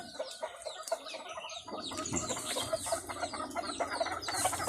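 Chickens cluck and chatter nearby, overlapping calls from several birds in a continuous farmyard murmur.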